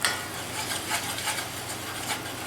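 A metal spoon stirs flour into pan drippings in a steady, close scraping and swishing with a soft sizzle underneath, repeating in rhythmic strokes with no voices.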